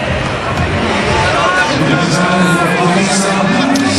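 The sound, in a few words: cricket stadium crowd cheering a catch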